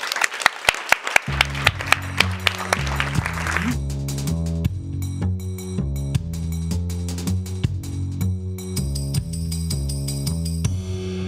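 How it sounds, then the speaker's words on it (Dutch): An audience at a poetry award event claps for a debut poet, a short burst of hand claps at the start that fades out as a steady piano-like musical passage takes over and plays on. "Een hartelijk applaus voor Maxime Garcia Diaz."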